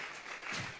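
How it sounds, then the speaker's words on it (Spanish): A church congregation at a Sunday service applauds together, a dense, steady wash of clapping hands that fills the whole short moment, loud and close. "Vamos a regalarle ofrenda de palmas al Dios de la gloria, ¿verdad?"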